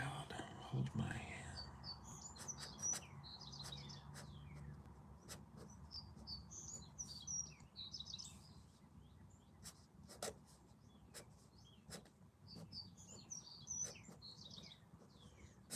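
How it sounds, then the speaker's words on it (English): Small birds outdoors chirp in quick, faint bursts that repeat every few seconds, heard beneath the close scratch of a pen on paper and a soft murmuring voice. "I love birds."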